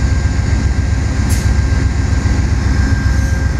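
A CT Rail train sits at New Haven station, giving off a loud, steady low rumble close by that continues without a break, with no talking.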